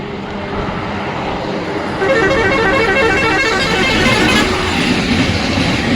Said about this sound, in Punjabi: ਨੈਸ਼ਨਲ ਹਾਈਵੇ 44 ਦੇ ਨਾਲ ਨਾਲ ਰੇਲ ਦੀ ਲਾਈਨ ਤੇ ਉੱਤੇ ਜਾਂਦੀ ਇੱਕ ਮੇਲ ਗੱਡੀ